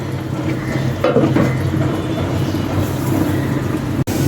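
A pot of beef and potato curry being stirred, with a few scraping stirs over a steady bubbling simmer and a sharp knock near the end.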